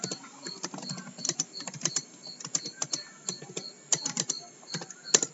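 Fast irregular typing on a computer keyboard, crisp close key clicks in uneven bursts with short pauses between, heard alone at a modest level.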